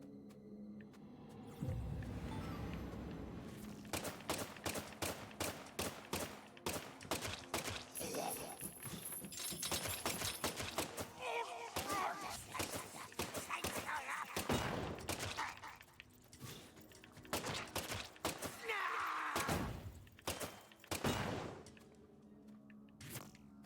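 Deadly Premonition gunfire: repeated sharp shots in quick irregular bursts throughout, fairly close, mixed with footsteps and game ambience, with someone talking at times.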